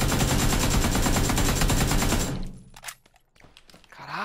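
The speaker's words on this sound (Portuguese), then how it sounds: "É você atirando?" Rapid automatic gunfire in PUBG on the Sanhok map, a dense loud burst for about two seconds, then a few scattered single shots and clicks as it fades.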